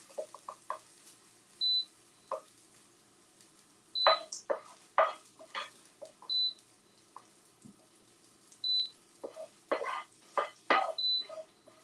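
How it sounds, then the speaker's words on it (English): A hot plate's high electronic beep repeats at steady intervals of roughly two and a half seconds, amid clattering and splashing kitchen noises. "Sorry about the beeping, it's just the hot plate."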